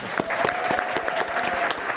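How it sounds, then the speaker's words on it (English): Audience applause for the five finalists at a startup pitch competition, a steady wash of many hands clapping that holds loud and dense for the full two seconds. "Please join me in giving them one more round of applause."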